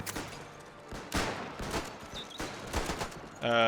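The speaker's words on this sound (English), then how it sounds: "The machine guns, machine guns of the enemy is not really doing anything." Scattered WW1 battlefield gunfire in the strategy game Between Empires: bursts of rifle and machine gun fire crackle in uneven clusters, some near and some distant, with a louder rattling burst at the end.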